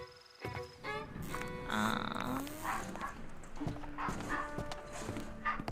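A dog barks a few times in the video game Mystery Case Files: 13th Skull, amid game-style background music and clopping effects, with sharp bursts scattered across the clip.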